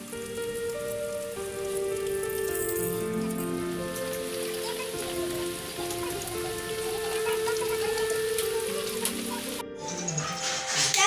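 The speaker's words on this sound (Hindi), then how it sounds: "देखिए कैसा बारिश हो रहा है।" Heavy rain falls steadily on surfaces at a home during a Raksha Bandhan celebration, a dense continuous hiss with some tonal household sounds mixed in, fairly loud throughout.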